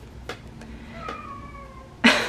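A pet cat gives a few short meows over a quiet room background, and a louder, harsher burst comes at the end.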